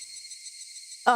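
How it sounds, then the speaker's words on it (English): Cicadas in the video game Higurashi keep up a continuous high, shrill buzzing chorus at a moderate level, and a brief voice cuts in right at the end. "even just hearing the cicadas right now"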